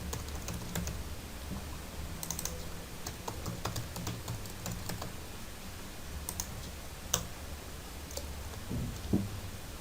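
Close, busy keystrokes on a computer keyboard tap out Ctrl+Shift+arrow shortcuts while programming in Java, a continuous patter of clicks with a few sharper key hits.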